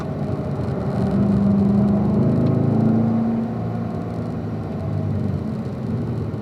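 A car accelerates during a driving lesson, its engine rising in a steady whirring drone with a climbing tone, fairly close and alone, then easing back to a lower hum.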